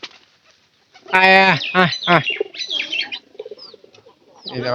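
Domestic village pigeons coo up close in a few soft, throaty bursts with pauses between them, loud and clear against a quiet background, with a bit of other bird chatter mixed in.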